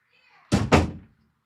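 A door is shut with two quick, heavy thuds in close succession, loud and near, after a brief stretch of faint background sound.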